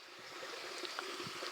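Water trickles steadily down a small cascade from a plant filter into a garden pond. A soft continuous splash, close and fairly faint, runs on with no talk.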